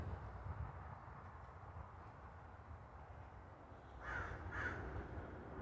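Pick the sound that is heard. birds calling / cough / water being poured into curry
birds calling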